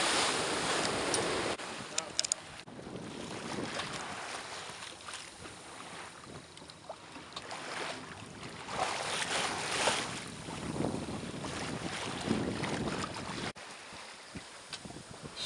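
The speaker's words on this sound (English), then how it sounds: "sailing along the west coast up to Cochin" A sailboat runs along the west coast of India toward Cochin, with wind gusts and rushing water swelling and fading in bursts, close and moderately loud, with no one speaking.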